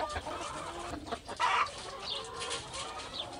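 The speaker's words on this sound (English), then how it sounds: "They're fucking chickens." Chickens cluck softly at a distance in short, scattered calls, with one louder squawk partway through over quiet background noise.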